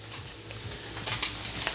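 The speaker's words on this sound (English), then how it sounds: "Toppings are cooking. In this case I'm making sausage" Sausage for pizza toppings frying in a pan, a steady close sizzle with soft crackling and a few faint stirring scrapes, no voices.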